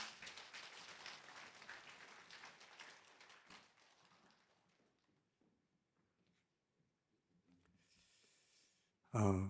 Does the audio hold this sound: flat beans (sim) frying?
no